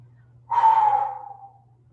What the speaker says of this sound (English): Continue to breathe either way.